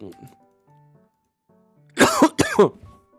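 After some faint background noises, a person gives two sharp, close coughs in quick succession.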